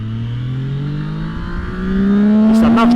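Zontes 703 F motorcycle engine revving high and climbing steadily in pitch, loud and close, pulling hard toward the top of its range.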